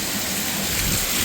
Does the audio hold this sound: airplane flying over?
no